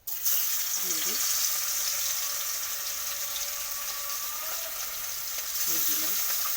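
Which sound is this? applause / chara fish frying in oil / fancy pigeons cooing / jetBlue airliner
chara fish frying in oil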